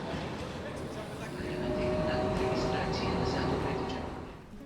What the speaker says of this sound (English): So I'm going to hop on a tram now and head up into the hills